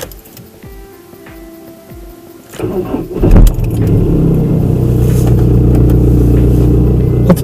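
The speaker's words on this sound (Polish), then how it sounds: "I teraz pytanie, czy odpali samochód, bo non stop stoi" A car that has stood unused cranks with a rough starter churn, then catches and settles into a loud, steady idle close by; light clicks and jangling come before it.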